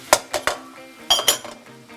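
A spatula stirs prawn fried rice with capsicum in a pan, giving a few sharp metallic clinks and scrapes in an irregular rhythm, close and fairly loud, with no talk.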